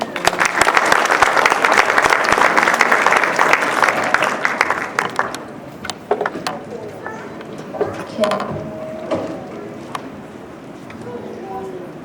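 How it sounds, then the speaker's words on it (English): Audience applause after a storytelling performance of a traditional tale, a dense, loud burst of clapping for about five seconds that thins into scattered claps and murmuring voices. "A big round of applause to Pandit Vishnu Sharma for bringing us to the beauty of our tradition through storytelling"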